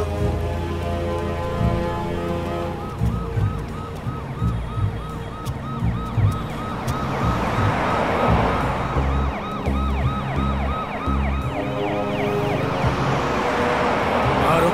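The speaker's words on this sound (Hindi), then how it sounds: "लेकिन सर वो तो एम्बुलेंस है" A wailing ambulance siren with rising and falling tones sounds loudly and continuously over heavy traffic noise.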